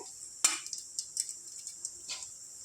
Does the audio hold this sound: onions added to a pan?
yes